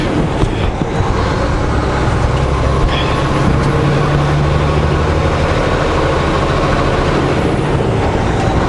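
A truck pulls a bouncing back trailer along a narrow, bumpy road, its engine drone steady and loud beneath intermittent rattles and clunks from the load.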